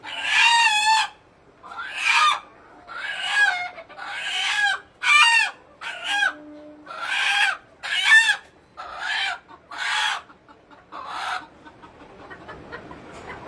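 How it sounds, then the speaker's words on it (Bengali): A domestic rooster crows and hens cluck loudly in a row of repeated calls with short pauses, close by and clear, tailing off into quieter rustling at the end. "আলহামদুলিল্লাহ এখন প্রায় 90+ মোরগ মুরগি আছে"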